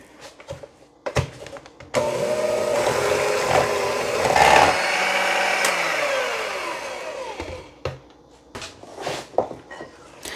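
An electric mixer whirs steadily through peanut butter cookie dough for several seconds, starting abruptly after a few clicks and knocks and stopping again, close and moderately loud, with no talking over it.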